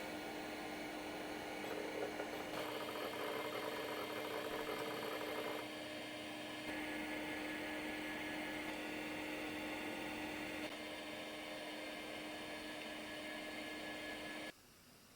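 A vintage Seagate ST-251 hard drive running a benchmark gives a steady whirring hum with faint seeking noise that shifts in texture partway through, then cuts off near the end.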